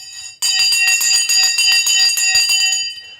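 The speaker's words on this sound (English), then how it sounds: "Oh, the bell has gone." The opening bell of a stock market rings loudly for nearly three seconds, a bright, rapid metallic clangour with steady pulsing strikes, starting abruptly and fading at the end.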